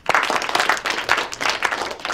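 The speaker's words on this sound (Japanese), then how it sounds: "ほらほら、みんな拍手拍手。" A school class applauding a newly introduced student, a short burst of dense group clapping that swells and holds close by.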